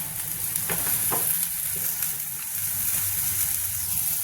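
Onion frying in a pan for spinach and masoor dal, a low continuous sizzle with a few faint scraping strokes of stirring near the start, quiet and steady, with no voices.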